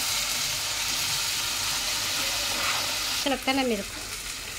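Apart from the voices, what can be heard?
ginger garlic paste and green chilli frying for beef biryani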